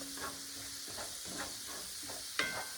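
Steak pan sizzling steadily as it is deglazed with beef broth and rosemary for a steak sauce, with soft scraping stirs repeating every second or so and a brief sharper clink near the end.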